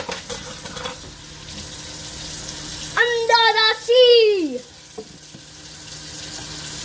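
Hot water runs from a tap in a steady hiss. A child sings briefly over it partway through.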